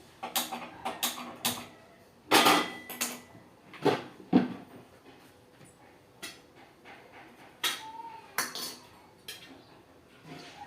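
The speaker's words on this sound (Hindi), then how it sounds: "तो ये मैंने रख रही हूँ पित्तल की कढ़ाई।" A heavy brass wok clanks and clinks in a series of sharp knocks as it is set down and shifted, with scattered quieter rattles between.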